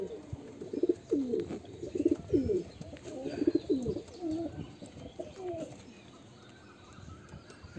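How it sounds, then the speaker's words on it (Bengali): A male pigeon of a fancy breed coos in repeated low, throaty phrases, fairly close and clear, the calls fading over the last few seconds with no talking. "এটা একটা মুস্কাওলোক নর পায়রা"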